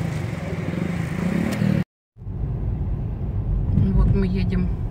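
A car drives along a street in India with a steady engine and road rumble. A voice speaks over it, a brief cut-out interrupts the sound partway through, and the car noise comes back with traffic around it.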